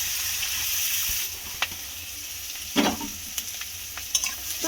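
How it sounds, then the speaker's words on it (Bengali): Chopped onion and capsicum sizzle in hot oil in a pan for pav bhaji, a steady hiss with a few sharp scrapes and clinks of stirring, close and moderately loud with no talking. "এবার আমি ওর মধ্যে দিয়ে দেব পেঁয়াজ কোঁচানো, আর দিয়ে দেবো ক্যাপসিকাম"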